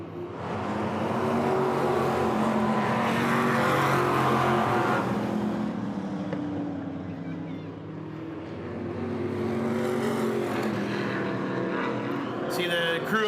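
Stock cars race around the Hythe Motor Speedway oval: loud engine roars swell as cars pass, fade in the middle and build again, with a rough, sustained growl throughout.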